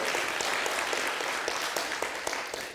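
A church congregation at a Sunday morning service bursts into warm, sustained applause, many hands clapping together in a dense, even patter that tapers slightly at the end.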